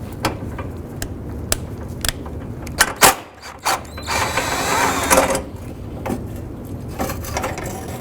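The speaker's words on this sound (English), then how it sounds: "we're going to use a long extension and a 10mm to go ahead and go between the bumper itself" A 10mm ratchet on a long extension working a bolt loose between the bumper and headlight area of a 2007-2011 Honda Civic. Close, sparse clicks and knocks, then a brief burst of faster ratcheting, with no one speaking.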